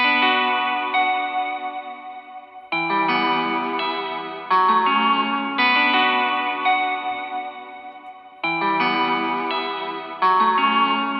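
An FL Studio melody pattern plays on a keyboard-style instrument, shaped by EQ and a vintage Valhalla reverb on its 1980s preset with the mix near 26%, as loud, sustained chords that restart in repeating phrases and fade into a reverb tail between them.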